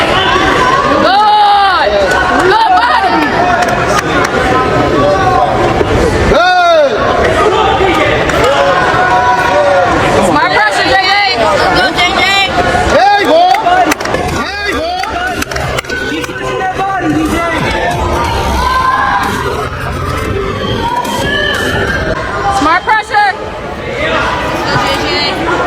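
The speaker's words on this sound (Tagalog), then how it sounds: "lumalakas ang sigawan ng mga Pilipinong nanonood sa arena" A Filipino crowd roars and shouts continuously in a boxing arena during a fight, a loud, dense wall of cheering that swells and dips, with excited voices calling out over the noise.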